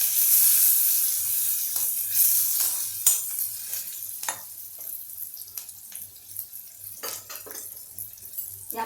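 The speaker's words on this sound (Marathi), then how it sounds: "आणि आता आपण याच्यामध्ये कांदा घालू. थोडासा कांदा परतून घेऊ." Chopped onion with turmeric sautéing in a pan for a Marathi-style safflower greens dish: a soft, continuous sizzle with scattered scraping stir sounds, loudest at the start and gradually quieter, close by.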